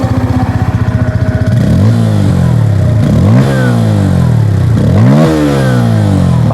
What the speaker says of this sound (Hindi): क्योंकि यहाँ पर कुछ एग्जॉस्ट लंबा सा नहीं है, अंडर बिल एग्जॉस्ट है। तो चलिए इसको हम लोग थोड़ी सी यहाँ पर सुन लेते हैं।